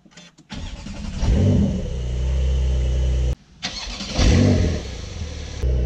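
Porsche 911 992 twin-turbo flat-six cranks and fires up with a loud rev flare, settles to a deep idle, cuts out, then starts and revs again; close and loud, no talking.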